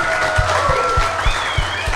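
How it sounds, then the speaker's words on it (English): Audience clapping at a live Green Bay Packers clubhouse show, steady rhythmic claps beneath cheering and voices. "Hey, keep those claps coming."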